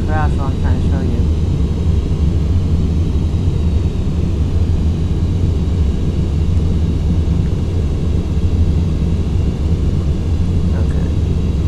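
A steady, loud airplane engine drone from the FSX flight simulator game hums continuously without a break, a constant low rumble throughout.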